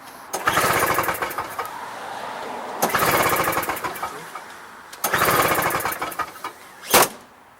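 Three quick pull-cord yanks on a free salvaged snow blower engine, each a loud, rapid chugging burst lasting about two seconds, with a brief sharp rattle near the end; the engine never catches.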